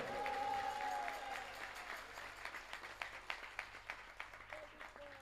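Applause from an audience at a Shyam bhajan devotional gathering at Khatu, a sustained wash of many hands that thins into scattered, distinct claps toward the end, heard at a moderate distance with a faint tone ringing early on.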